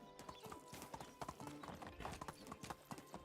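A horse's hooves clip-clop in a steady walking rhythm in the medieval village game Medieval Dynasty, close and clear with a soft snort.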